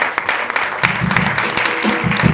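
Audience applause for the drummer at a live band show in a small concert venue, a steady burst of many hands clapping close by, with a few low voiced shouts mixed in.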